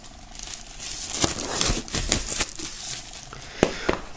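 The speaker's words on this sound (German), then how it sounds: "Machen wir die Folie mal ab." Plastic shrink wrap is peeled and crinkled off a vinyl record in close, irregular bursts of crackling and tearing, with sharp snaps scattered across a quiet room.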